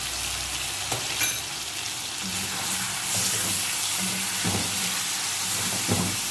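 Chicken fries in garlic ginger paste in a karahi for a Balochi chicken dish, giving a continuous close sizzle broken by a few clanks and scrapes of stirring, with no talking.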